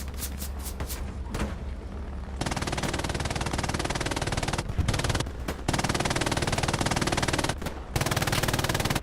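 Machine gun fire from a World War II shooter game, Hell Let Loose, rattles in long rapid bursts with short pauses between them, loud and close, alongside heavier thumps.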